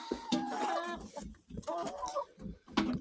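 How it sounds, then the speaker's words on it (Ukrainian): Several chickens cluck and squawk close by in irregular bursts, with a rooster's calls mixed among them. "Півник, півник."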